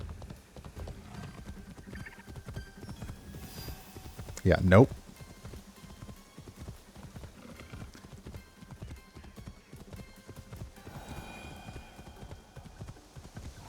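Horse hooves clip-clop steadily at a gallop in Assassin's Creed Shadows, a continuous rhythmic beat under a player's occasional talk, with one brief louder burst midway.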